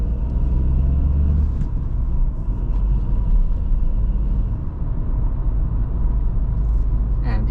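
Dacia Sandero, 2024/2025 model, driven at night with a manual gearbox: a steady low engine and road rumble from inside the cabin, fairly loud and continuous, with a few faint clicks.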